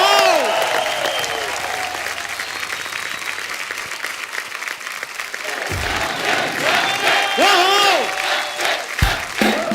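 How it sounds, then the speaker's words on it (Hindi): Loud studio audience applause and cheering on a Hindi comedy talk show greeting a superstar guest, with a few whoops and voices rising over the dense clapping throughout. "जोरदार तालियां एक बार अक्षय बाजी के लिए"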